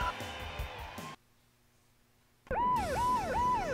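Police car siren in the racing video game Choro Q HG, a synthetic wailing tone over game music, cutting out into near silence for over a second before returning loud with a rising and falling whoop.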